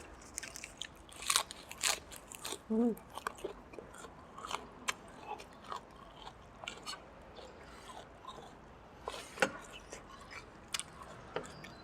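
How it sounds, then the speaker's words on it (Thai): Crispy Thai potato crisps eaten alongside pork noodle soup, with sharp, close crunching bites and irregular chewing crackles repeating throughout, no talking. "อืม แคบมันฝรั่ง"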